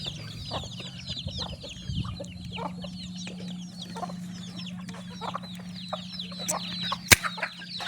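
Several free-range village chickens cluck and chatter continuously at close range over a low steady hum while being fed unhusked rice in the evening, with one sharp louder squawk near the end.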